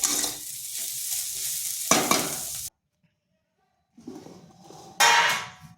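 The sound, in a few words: stir-frying dry cauliflower paratha filling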